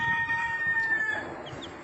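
A brooding village hen clucks close by near her newly hatched chick, with thin high peeps running through the first second over a soft, steady background.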